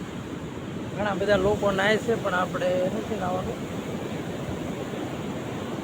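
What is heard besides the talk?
sea waves on the shore at Veraval Somnath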